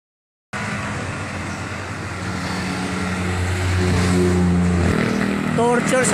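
A Yamaha Fino Classic scooter engine runs steadily on a test ride with no oil, a loud continuous drone that swells slightly louder toward the end, with faint voices in the background.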